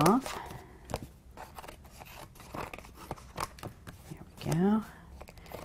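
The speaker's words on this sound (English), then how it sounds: "we're going to trim away the extra bit. I'm just going to use some scissors" Scissors snip through paper card while a Celtic pattern card is being trimmed, giving short crisp cuts and papery rustles close up, with someone talking over the work.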